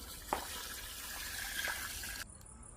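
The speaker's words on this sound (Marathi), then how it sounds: "पातीला थोडस इसळून आपल्याला रश्श्यामध्ये ओतायचंय" A soft, steady rush of hot water being poured into mutton curry, faint and continuous, stopping abruptly near the end followed by a quieter tail.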